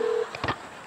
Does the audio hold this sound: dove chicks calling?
no